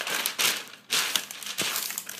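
Parchment baking paper being handled and crinkled over a baking tray, with several close, crisp bursts of crackling separated by brief pauses.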